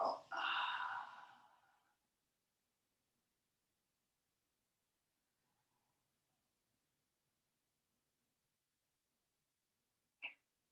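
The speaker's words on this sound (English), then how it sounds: "Nice deep breaths." One deep, audible exhale during yoga side stretches, close and soft, then near silence apart from a brief faint click at the end.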